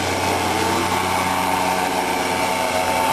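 A small radio-controlled airplane with two-axis control flies on a windy day, its propeller and light engine giving a steady, close buzzing whine throughout.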